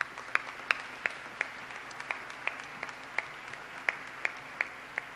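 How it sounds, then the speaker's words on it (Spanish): Sparse, evenly spaced claps, about a dozen crisp single hand claps at a steady rhythm, moderately near and fairly quiet, at an event in the Venezuelan state of Guárico with no voices over them. "Yo le doy un aplauso al pueblo del estado de Guárico."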